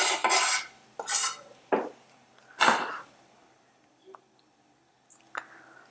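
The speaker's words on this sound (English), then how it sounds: "We're going to give everything one final mix." Salmon pieces and fresh herbs tossed together in a mixing bowl, giving a few separate scraping, clinking stirs with a utensil, close and fairly quiet with pauses between strokes.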